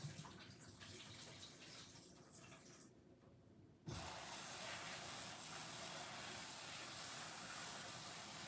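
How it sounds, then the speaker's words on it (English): Cold tap water runs steadily while produce is rinsed before juicing, a continuous broadband rush with a brief quieter dip midway before the flow strengthens again. "when I'm rinsing these off"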